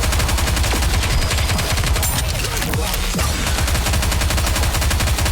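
Rapid gunfire roars without a break from a Goddess of Victory: NIKKE battle, a loud, dense machine-gun rattle filling the whole stretch.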